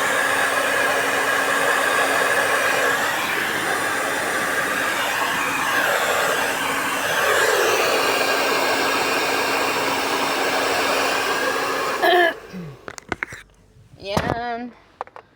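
Handheld hair blower drying hair, a loud steady roaring whoosh with slight shifts in pitch running for about twelve seconds before switching off, followed by brief talk and handling noises.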